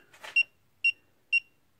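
Three short, high-pitched electronic beeps from a Klein circuit breaker finder, evenly spaced about half a second apart, following a faint click.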